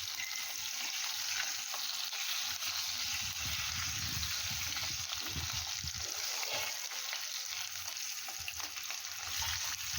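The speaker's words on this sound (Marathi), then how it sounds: "अगदी सावकाश आपल्याला त्या फ्राय करून घ्यायच्या आहेत" Stuffed bell peppers fry slowly in oil, giving a steady, close sizzle with soft stirring and shifting of the peppers now and then, continuous throughout with no talking.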